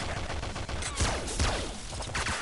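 Laser gun fire in the video game Nuclear Throne comes as a fast string of sharp, crackling bursts over dense game noise, with louder blasts near the middle and toward the end.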